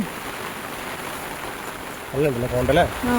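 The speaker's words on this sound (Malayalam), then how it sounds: "നല്ല മഴ അടിക്കുന്നുണ്ട്." Heavy rain hisses steadily and evenly in the forests of Coorg, then a voice briefly speaks over it near the end.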